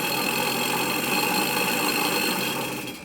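An old elementary electric motor from an Oersted experiment runs with a steady, dense buzzing whir at close range, holding level before easing slightly at the end.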